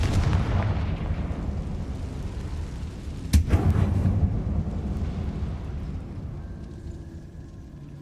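In the video game Hogwarts Legacy, the Confringo fire spell explodes inside an abandoned mine with a sharp blast, followed by a low rumbling roar of fire that slowly fades and stands alone without speech.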